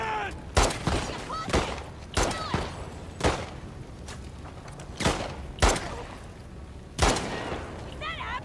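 Gunfire in The Last of Us Part II, with about six loud sharp shots spread irregularly over several seconds amid game noise and shouting voices.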